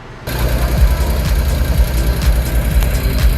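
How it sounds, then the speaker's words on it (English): A Honda NSX with a swapped J-series engine cranks and catches, then settles into a loud, rough idle with a regular ticking knock running through it. "We're gonna see if we can start the car."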